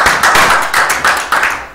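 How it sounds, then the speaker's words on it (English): Church congregation clapping their hands in steady rhythm, sharp close claps repeating roughly every quarter second and ringing in the hall, with no talking over them. "Give the Lord a hand clap."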